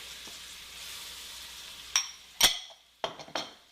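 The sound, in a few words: onions frying in melting butter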